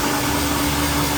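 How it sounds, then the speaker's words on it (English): A dog grooming dryer blows in a loud, steady, close roar with a constant hum, continuous throughout and with no voices. "the loud noise from the scary monster that is the dryer"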